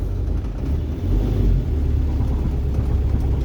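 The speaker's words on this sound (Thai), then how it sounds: "เดี๋ยวผมล่องออกเกียร์สามให้เบิ้งนะครับ" A used six-wheel truck engine revs steadily while driving in third gear, a loud, continuous low rumble close by with a slight swell in the middle and no talking.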